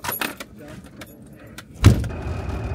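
A camper van starts up and pulls away after a brief exchange of voices. Light jingling comes first, then a sudden low engine rumble that holds steady as the vehicle moves off nearby.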